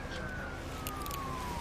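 A distant police siren wails with a slowly falling pitch over steady low traffic rumble, continuous and fairly faint.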